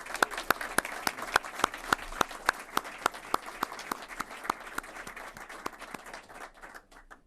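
An audience applauds panelists at a 761st Tank Battalion commemoration event in Austin, with steady, evenly spaced claps close by and loud, tapering off in the final second.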